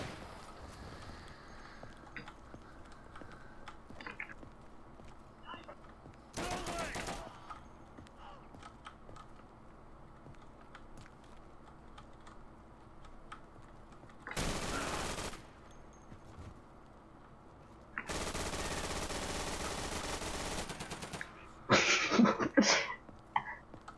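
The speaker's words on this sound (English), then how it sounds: "I'm just gonna take an MG42 and just run around." MG42 machine gun fire in the World War II shooter Day of Infamy: several loud, dense bursts a second or two long, separated by quieter stretches of background game noise, with a sharper clatter of shots near the end.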